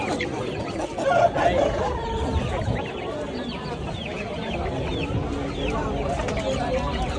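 Several Aseel chickens cluck and chatter close by in a busy Sunday market in Ahmedabad, with people talking in the background.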